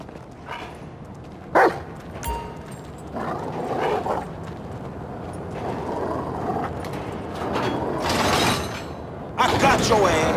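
A dog, the Rottweiler Chop in Grand Theft Auto V, barks and yips amid game action and crashing sounds, with someone talking excitedly over it.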